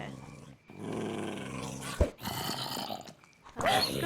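A tamed wolf dog in the game Minecraft gives low growls in short bursts, with a sharp hit midway, while a person talks over parts of it.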